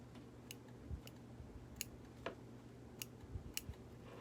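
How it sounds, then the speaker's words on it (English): Curved scissors trim stray embroidery threads on fabric held in a machine embroidery hoop, a series of faint, crisp snips spaced irregularly, close by and quiet. "I'm going to bring these scissors in, these ones that are with a little curve to them, and I'm going to do all the trimming while it's in the hoop"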